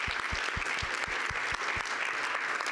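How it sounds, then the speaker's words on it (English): An audience claps for panelists at a leadership event, a brief burst of close, even applause with distinct rhythmic hand claps standing out against the crowd's wash of clapping. "Join me in giving our panelists one more huge round of applause."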